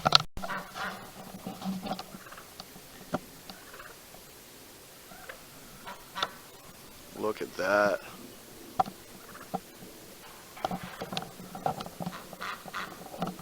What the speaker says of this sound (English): You guys probably hear my ducks and my turkeys and stuff. They are going crazy now.